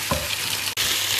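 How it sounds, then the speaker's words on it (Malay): An egg fries in a hot pan during nasi goreng sardin petai cooking, giving a loud, steady crackling sizzle with a brief clink of a utensil partway through. "gorengkan telur,"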